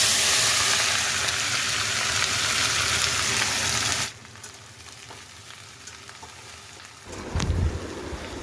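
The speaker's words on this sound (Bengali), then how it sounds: "পেঁয়াজটা ভাজার সময় গ্যাসের ফ্লেমটা হাই করে কিছুক্ষণ ভাজবো" Onions fry in oil in a pan over a gas flame with a loud, steady sizzle that suddenly drops to a quieter crackle. A few stirring knocks and scrapes follow near the end.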